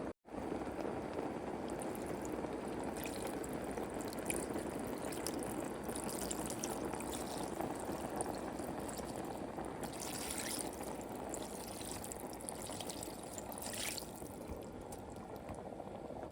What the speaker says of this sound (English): Now we're going to add the water